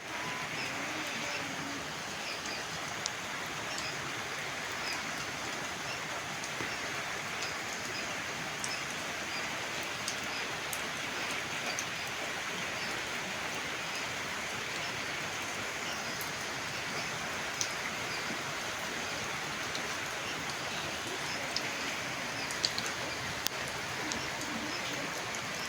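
Steady rain falls on a rural Bengal village by a river, a faint, continuous soft hiss with scattered tiny drop ticks and no voices.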